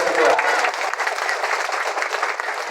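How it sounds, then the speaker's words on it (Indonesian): Dense crowd applause at an Indonesian campaign gathering in Manggarai, a steady, loud wash of many hands clapping at once that holds at an even level for a few seconds. "Tepuk tangan untuk kita semua."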